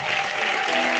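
Dense, steady applause from a church congregation at a wedding consecration in Bassam, acclaiming Jesus Christ, loud and continuous throughout the brief moment with no break.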